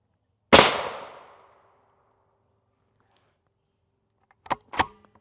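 A rifle shot fired at a body armor plate gives one sharp, loud crack with a short decaying tail, then silence, followed by two quick faint clinks near the end.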